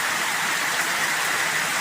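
Steady, even rain hiss, the first rain of the season, falling without a break for the whole stretch at a moderate level, with no voices.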